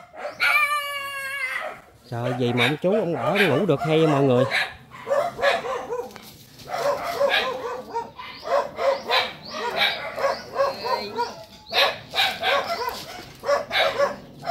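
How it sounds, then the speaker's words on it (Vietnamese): Several dogs bark and yip near a run-down house in rural Vietnam, a burst of loud barking at the start followed by intermittent yaps under steady conversation between people. "Cho mấy con chó bớt la."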